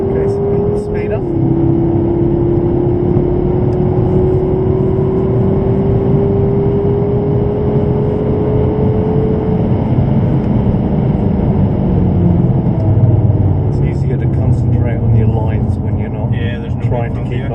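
Car engine pulling steadily and building speed on the Goodwood circuit during track driving, a continuous rising drone with wind and road noise throughout, and an instructor's voice talking over it.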